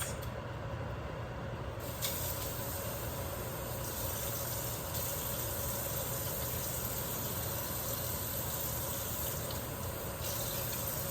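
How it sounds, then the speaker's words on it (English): Steady running water pours continuously at close range over beans being rinsed, a broadband rushing hiss with no voices, holding level throughout. "I'm going to add some water and rinse it."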